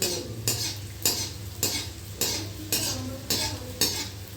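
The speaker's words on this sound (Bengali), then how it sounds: "এভাবে একটু লাল লাল করে ভেজে নেব" Small round gulab jamun dough balls sizzling in hot oil, a close steady frying hiss broken by regular spoon scrapes or stirring strokes about every half second, with a low hum underneath and no speech.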